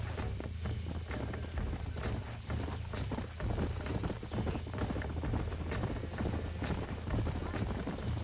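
Horse hooves in the Red Dead Redemption video game clip-clop in a fast continuous rhythm under a dense layer of game sound and occasional talk.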